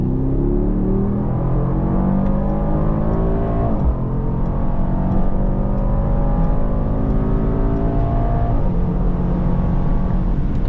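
2026 Mercedes GLE 63 S AMG V8 at full throttle on the German Autobahn, engine note climbing steadily through repeated upshifts, loud and continuous from inside the cabin, no talking.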